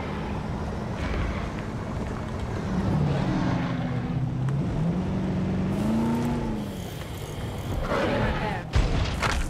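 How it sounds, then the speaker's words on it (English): A vehicle in the dinosaur park game Jurassic World Evolution rumbles steadily with a low, continuous engine drone that rises and dips as it moves. A voice speaks faintly underneath, and a brief thump comes near the end. "I want to drive the vehicle"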